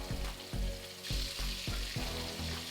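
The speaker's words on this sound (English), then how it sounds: "We will leave our fish to cook for about 3 to 4 minutes on one side." Salmon fillet searing in hot oil in a pan, a steady close sizzle with soft periodic thumps as it is gently pressed with a spatula.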